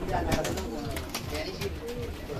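Pigeons in a mixed flock coo steadily under continuous background noise. Low, rolling calls repeat through the clip, and a voice may sound faintly among them.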